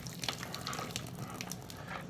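Water drained off freshly cooked pancit canton noodles, a steady close splashing and trickling pour with small drips, continuous for about two seconds.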